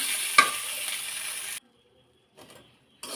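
Potato filling sizzles and fries in a pan, a bright, steady hiss for a second and a half that abruptly cuts off, followed by near silence and faint stirring noises.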